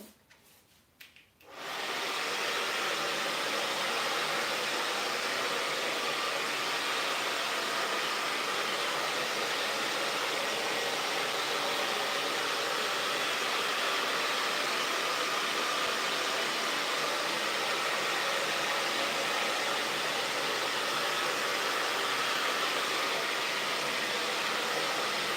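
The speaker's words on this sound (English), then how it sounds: "Sorry for the hairdryer again." A hair dryer switches on after a brief moment and then blows with a steady, even whoosh for a long stretch, used to dry paint during a cabinet distressing demonstration.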